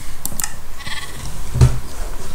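A sheep bleats in Minecraft's Hypixel Skyblock, with short, fairly loud calls amid light keyboard clicking.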